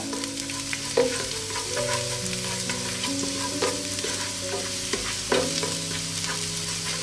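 Garlic sizzles in cooking oil in a pan for a Filipino chicken pochero, steady frying hiss with clinking stirring strokes and a couple of sharper utensil knocks, no voices.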